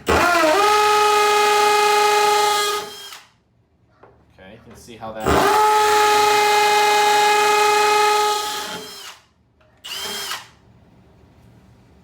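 A hammer drill with a masonry bit grinds loudly in two long bursts with a short third, pausing between them while a person speaks briefly.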